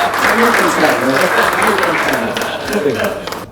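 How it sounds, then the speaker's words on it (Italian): An exhibition audience at a ship modeling event applauds, a dense, steady wash of clapping that fills the whole stretch and thins slightly near the end, with voices mixed in beneath it. "un applauso grande Oscar"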